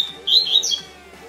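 A green-winged saltator sings a short, bright phrase of clear whistled notes, close and fairly loud over a quiet background.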